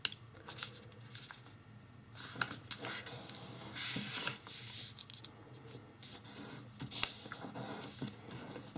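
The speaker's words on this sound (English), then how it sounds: "fold tip to crease the diagonal" Origami paper is folded tip to tip to crease the diagonal for a traditional Easter basket, giving soft, close rustles and crinkles with a few sharper crisp swipes as the fold is pressed flat.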